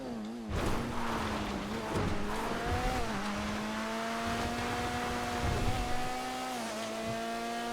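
An Omnis race car in GTA FiveM roars along with a steady, buzzy engine note that rises and dips through gear changes, loud and continuous for several seconds with no talk.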